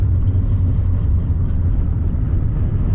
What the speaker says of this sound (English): These ginormous tires definitely makes a lot of noise, and I can really hear it in the rear